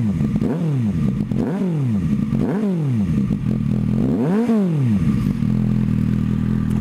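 Motorcycle with about 24,000 km on it, exhaust pipe close up, idling and blipped in several quick rev bursts that rise and fall, then settling into a steady idle.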